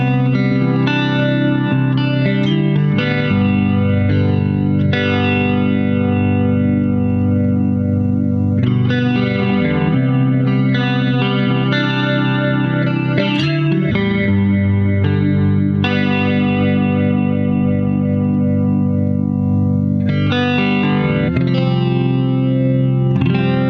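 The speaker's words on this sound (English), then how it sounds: "the Ventura Vibe's rotary mode definitely has it going on as well" Electric guitar played through a Ventura Vibe pedal set to rotary mode, giving steady sustained chords with a swirling, chorus-like warble and slight grit, loud and continuous without pauses.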